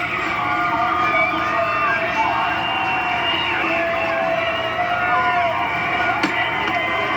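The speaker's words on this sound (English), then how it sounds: "And you can hear the crowd's reaction." Race crowd at Bristol reacting to Denny Hamlin winning the Food City 500, a continuous dense roar of spectators with cheering mixed in, steady and distant-sounding throughout.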